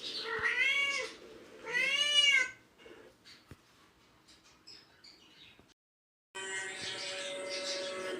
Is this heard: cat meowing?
yes